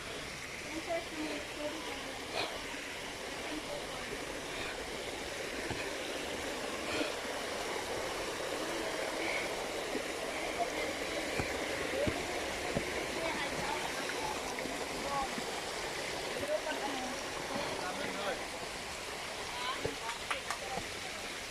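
Steady, broadband rush of water from a mountain stream and waterfall, constant in level for the whole stretch, with faint voices occasionally audible beneath the roar.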